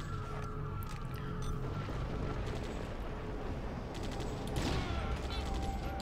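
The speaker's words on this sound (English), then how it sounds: "Any of the boxes, cardboard boxes in the way, you can just shoot," Bursts of gunfire from the video game Dredd vs Death, shooting cardboard boxes out of the way, crackle in rapid clustered volleys at a modest level over a steady game background.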